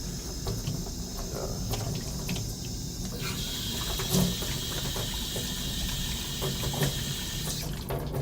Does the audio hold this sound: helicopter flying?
no